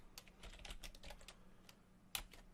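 Close, quiet clatter of typing on a computer keyboard at a Windows command prompt, a quick irregular burst of keystrokes with a sharper key tap near the end and no voices.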